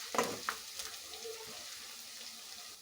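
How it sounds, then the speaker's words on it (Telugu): Onions fry in oil with curry leaves for a raw prawn and cucumber curry, giving a steady close sizzle with a few sharp utensil scrapes and clinks near the start. "ఉల్లిపాయలు వేగుతున్నాయి కదండి"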